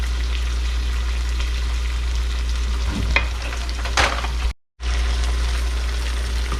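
Chopped garlic and ginger frying in a pan for teriyaki chicken chow mein, a loud continuous sizzle with a couple of stirring scrapes and a brief cut to silence near the end.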